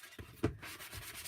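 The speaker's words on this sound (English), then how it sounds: "do my sanding right on here." A Dollar Tree sanding block rubs across a dried DIY fall pumpkin decor piece in a quick pair of short, close, scratchy strokes with a brief pause between them.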